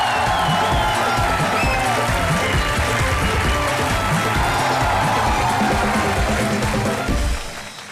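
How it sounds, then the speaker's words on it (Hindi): A studio audience at a comedy show bursts into loud, sustained applause and cheering that holds strong for several seconds before dropping away sharply at the very end. "इनके लिए जोरदार तालियां."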